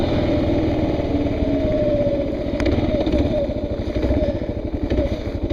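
A motorcycle on an evening ride drones steadily and close, its engine rumble holding a continuous low pulsing tone with slight swells in pitch, and no one talks.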